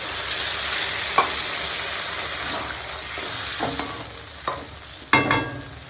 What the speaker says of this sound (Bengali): মাংসটা দেখো এখন কষানো হয়ে গেছে তেল ছেড়ে দিয়েছি